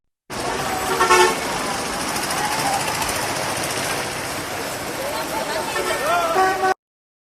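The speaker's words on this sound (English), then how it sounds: "Cars." Cars on a busy road with horns honking: a dense, loud traffic wash with several toots sounding at the start and again near the end, continuous with no pauses.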